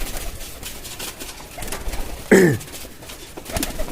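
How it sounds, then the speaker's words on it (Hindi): A single pigeon gives one short, clear coo close by, set against a low murmur of background noise in a home pigeon loft. "ये भी देख लें माशाल्लाह से आपके सामने कबूतर है जी"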